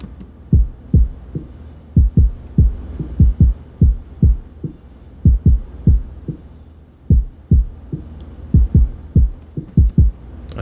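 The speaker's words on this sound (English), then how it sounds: "that's how I get those kind of washed out drum sounds" A bit-crushed, washed-out boom bap drum beat made in Ableton Live: muffled, low-heavy kick and snare hits in a steady loop, loud and upfront with no voices.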